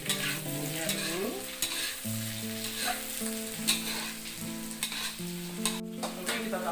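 Spice paste stir-fries in a pan with a steady close sizzle and occasional scraping, under tonal background music, with no voices.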